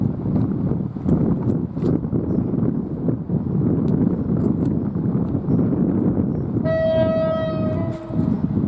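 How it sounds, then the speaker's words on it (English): London to Manchester Piccadilly service passing through Didcot Parkway station, a loud continuous rushing roar of the train going by, with a brief tonal horn note near the end. "the next train to pass by is going to be a service from London to Manchester Piccadilly"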